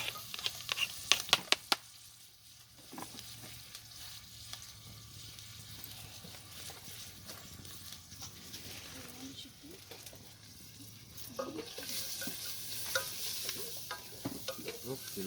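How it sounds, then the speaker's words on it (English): Onions sauté in oil over a camp stove outdoors, a steady soft sizzle that swells louder near the end, with stirring clicks early on and brief talking. "My onions can saute a bit."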